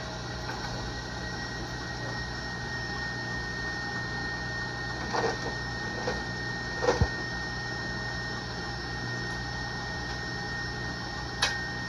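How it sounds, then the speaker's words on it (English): An electric stand mixer with a whisk attachment runs steadily, whipping egg whites for a jelly roll cake, a constant motor whine with a few faint clicks and knocks. "I'm using the whisk attachment. And I'm going to let that go."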